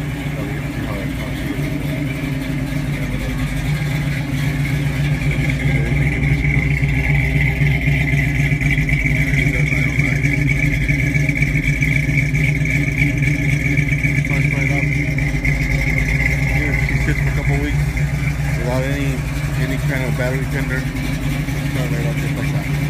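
A silver and black 1968 Ford Mustang with a five-speed gearbox runs steadily at close range, its engine note holding a loud, even idle for the whole stretch with little change in pitch.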